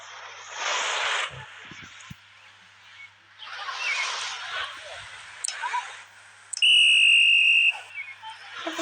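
In the water park area of the Avatar World game, a man blows a whistle in one bright, sustained blast near the end. It follows bursts of hissy, splashing game noise.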